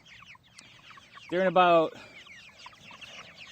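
About sixty hungry chickens crammed in a coop cluck and chatter softly in the background, a voice briefly speaking over them near the middle.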